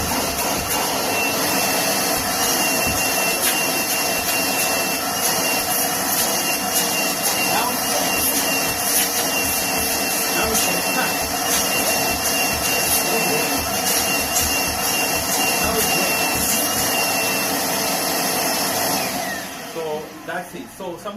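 A vacuum cleaner with its hose pipe attached runs with a loud, steady roaring whine close by, then winds down and stops near the end.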